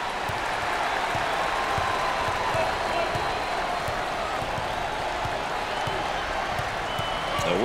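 A college basketball student section cheers and applauds at an NCAA game between UM Kansas City and Kansas, a steady loud crowd roar that holds throughout with a commentator's voice faintly underneath.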